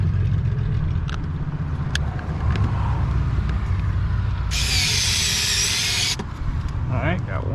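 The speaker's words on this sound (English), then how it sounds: "Now let's go ahead, put these 2 screws in" A power tool briefly whirs for about a second and a half, driving screws into the interior door trim of a Honda FL5 Type R during a carbon fiber door handle install, over a low background hum; someone talks around it.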